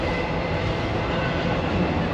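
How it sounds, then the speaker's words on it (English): Train rolling past in the background of a hot rod and rat rod car show campground, a steady broad rumble that stays constant throughout at moderate level, with faint voices around. "You get the ambience of the train going by in the background."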